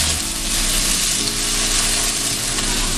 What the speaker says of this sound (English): I'm gonna start sauteing them.